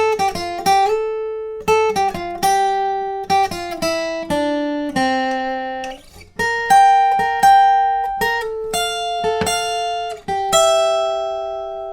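Guitar plays the second interlude of a song, picking the 3rd and 1st strings in clear ringing notes, a sequence of plucked phrases with decaying sustain, alone and close.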